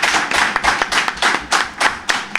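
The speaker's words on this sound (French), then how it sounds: "Je vous demande d'applaudir pour les AME." An audience at an event honouring the AME in Benin school circles claps in brisk, rhythmic bursts, with hands striking about four times a second. The clapping is loud and close, with no talk over it.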